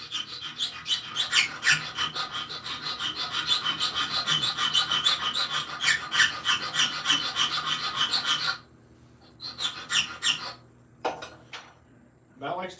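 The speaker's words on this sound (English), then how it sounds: "barely cut into his tubing and then cope for 5 minutes with the file" Hand file coping metal tubing, a steady run of dense rasping strokes close up for most of the stretch, then a pause followed by a few shorter scraping passes.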